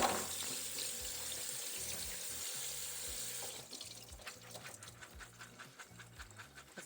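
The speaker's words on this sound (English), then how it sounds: "I'm going to just rinse them in this little colander and get them all out of here." Soaked ingredients for vegan ricotta get rinsed in a small colander under a running kitchen tap, a steady faint water rush that gives way to irregular splashing and dripping as they are shaken about.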